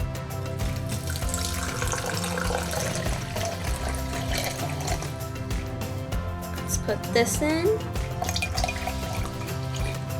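Sparkling water and pink lemonade are poured together for a party drink and fizz, partly masked by loud, continuous cartoon-style music, with a voice speaking briefly.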